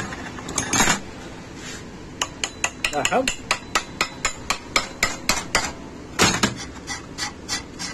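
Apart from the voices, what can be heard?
light tapping with a hammer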